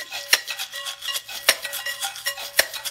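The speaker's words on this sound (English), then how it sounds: "It makes one sound if you go on its side" A homemade spice-jar shaker is shaken on its side, giving brisk rattling bursts of small dry grains with several sharper knocks. It is close and fairly quiet, with no talk.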